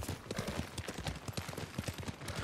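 Horse hooves clip-clop in a steady, regular gait in the samurai game Ghost of Tsushima, close and fairly loud over a low background bed, with no talking.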